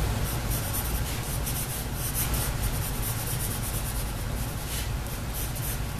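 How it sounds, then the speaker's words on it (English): Pencil sketching the forms of a Venom drawing on paper, a steady dense rubbing and scratching of graphite strokes, continuous and close, with no talking. "But all I'm doing now is just sketching in the forms."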